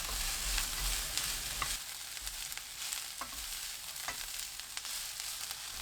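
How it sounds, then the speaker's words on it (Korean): Steady sizzling of spring cabbage stir-frying in a hot pan over high heat, with occasional clinks and scrapes of a utensil tossing the food. "봄동 넣고 센 불로 1분 볶아주세요."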